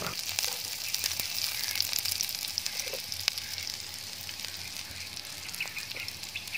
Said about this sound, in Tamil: பூண்டையும் பச்சை மிளகாவையும் சேர்த்து பொன்னிறமாக வதக்குறேன்.